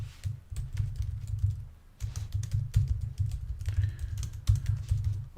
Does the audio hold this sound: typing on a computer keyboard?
yes